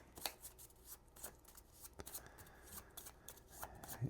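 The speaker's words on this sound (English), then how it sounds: "Take our stack and give it a shuffle." A stack of cards from a strategy card game is shuffled close up, a quiet run of crisp, rapid flicks and rubs lasting several seconds.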